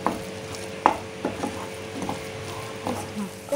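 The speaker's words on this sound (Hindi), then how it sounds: "बेसन के पकने तक की खुशबू आने तक बेसन को हमें पकाते रहना है।" Gram flour (besan) roasting in a kadhai for Uttarakhand kafuli, stirred with a spoon: soft scraping strokes and light sizzle, with a few sharper clinks against the pan, close and steady throughout.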